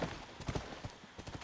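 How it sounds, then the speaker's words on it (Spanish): Hooves of a horse clip-clopping in The Last of Us, crisp irregular strikes in quick clusters, close and fairly loud with no talking over them. "Salta ahí, güey, pinche caballo."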